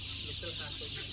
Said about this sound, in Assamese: এইবিলাক লোকেল পাতি হাঁহৰ পোৱালি।